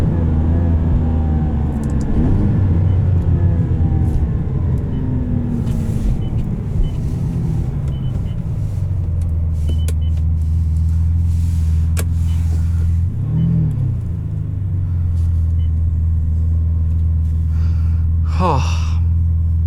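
A 2002 Ferrari 575M engine while driving, a steady loud drone with a rising rev early on, then settling into a constant cruising hum.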